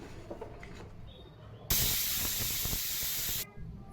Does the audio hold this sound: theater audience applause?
no